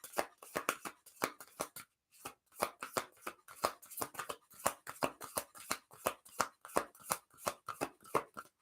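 Oracle cards being shuffled by hand during a live card reading, a rapid run of crisp riffling flutters in repeated bursts with a brief pause, close and clear with no talking.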